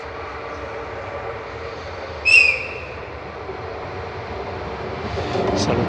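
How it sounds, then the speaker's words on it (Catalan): A train pulls into Ribes de Freser station after running late, a steady low rumble with a brief sharp whistle partway through and swelling noise as it draws nearer at the end. "Amb 10 minuts de retard ja tenim aquí el primer tren de la tarda."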